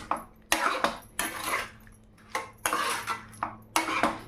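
Banana being mashed and mixed with sugar in a bowl produces repeated scraping, clinking spoon strokes in short uneven bursts separated by brief pauses, close and fairly quiet, with no voices.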